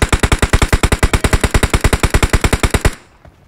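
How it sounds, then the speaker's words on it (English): Automatic gunfire in PUBG Mobile hammers out as one long, loud, rapid stream of evenly spaced shots lasting nearly three seconds, then cuts off into a brief fading tail. "What's this guy shooting at us?"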